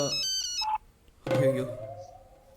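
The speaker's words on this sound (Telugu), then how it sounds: "ఫోన్ రింగ్ అవుతుందని కూడా చెప్పరా?" A phone rings with an electronic tone, stops briefly, then resumes with a sustained melodic ring, close and fairly loud.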